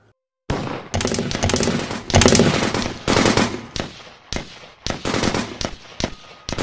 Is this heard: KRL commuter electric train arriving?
no